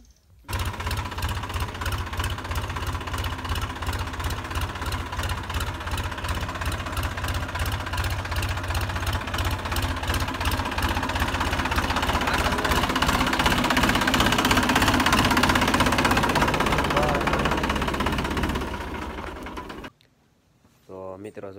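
A tractor fully loaded with wood runs with a steady, rhythmic mid-pitched engine chug and clatter, loud and continuous for about twenty seconds before cutting off near the end.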